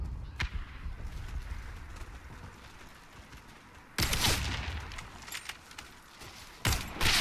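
Sniper rifle shots in the online shooter Warface (AMP DSR-1): a sharp crack near the start and two loud, close blasts later that ring out, over a steady low game ambience.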